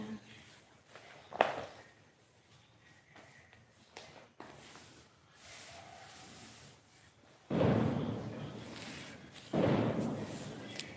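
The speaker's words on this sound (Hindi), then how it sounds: "काफ़ी पटाखे फूट रहे हैं इधर" Firecrackers burst outside during a wedding season, heard as a few distant booming cracks with longer noisy tails, spread out over quiet background shuffling.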